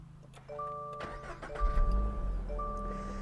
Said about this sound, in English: the button to fire up the engine is over here where you'd expect it to be